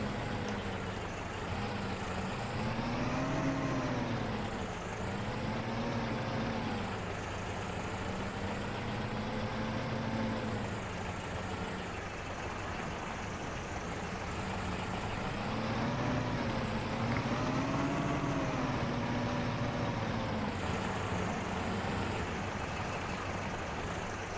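A small tractor engine works steadily in Farming Simulator 22, a continuous loud drone whose pitch rises and falls in slow swells as the load changes, with no talking over it.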